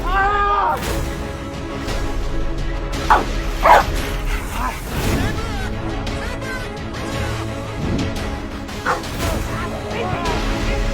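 Police dogs bark and yip repeatedly in short bursts, loud and close, with whimpers between barks over a busy background.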